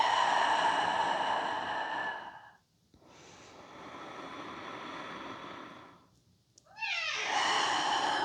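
A pet cat meows several times during a calm face-yoga session indoors, with drawn-out rising cries near the microphone, a quiet pause between them, then a final cluster of short meows.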